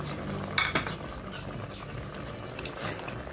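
Pork adobo with quail eggs being stirred in a pan, soft scraping knocks and a low simmering sizzle underneath, a couple of sharper clinks early on.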